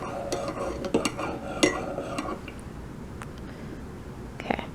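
A spoon stirs cold water in a cup with a few close metallic clinks and scrapes early on, then the stirring fades to quieter swirling near the end.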